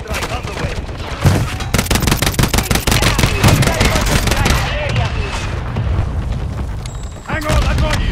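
An artillery fire-mission strike in Call of Duty Warzone: repeated loud, close blasts and rapid bursts of gunfire land in quick succession across the whole stretch, with radio-style voices talking among them.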